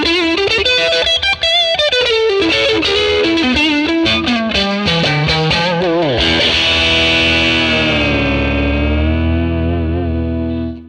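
Distorted electric guitar, a Stratocaster, through a Fender 1957 Tweed Bassman amp model with reverb added, playing quick phrases before a sustained chord rings out and decays into a long reverb tail, loud and alone.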